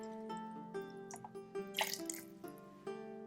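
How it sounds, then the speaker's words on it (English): Water is poured into a pot of stuffed eggplants in a home kitchen, giving soft splashing and dripping with some clinks of the pot, quiet and intermittent over a few seconds. "we add into the pot water about halfway up the eggplant"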